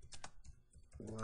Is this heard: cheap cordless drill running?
no